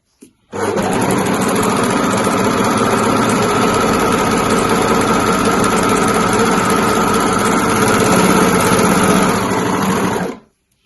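A serger stitches knit fabric for a Breton stripe tee with its differential feed set to neutral, a loud, steady motor hum with rapid needle chatter running about ten seconds before stopping, no voices.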